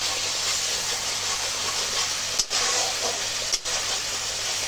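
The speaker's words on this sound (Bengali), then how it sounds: "এবার আমি করে রাখা মশলার মিশ্রণটা তেলের মধ্যে দিয়ে দেব। মশলাটা ভালোভাবে কষিয়ে নেব" Spice mix frying in hot oil, a steady dense sizzle that fills the whole clip, close and fairly loud, with two brief dips where the hiss breaks for a moment.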